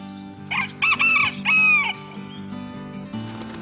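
Chickens cluck softly in a henhouse while a rooster crows loudly several times nearby, the calls close and clear over the low murmur of the flock.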